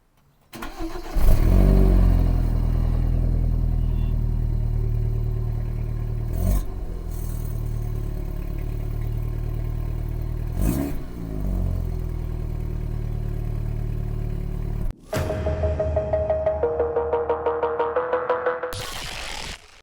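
The stock exhaust of a BMW F11 528i with its 245-horsepower engine starts up and settles into a steady idle, with a few blips, then sharp revving bursts near the end.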